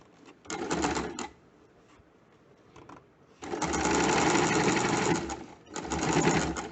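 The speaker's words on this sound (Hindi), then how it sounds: "इस तरह से खींचते हुए खुले वाले हिस्से को सिलाई करके पूरा करेंगे" Sewing machine stitching closed the joined ends of an elastic band, running in three loud bursts of rapid, even needle chatter separated by brief pauses.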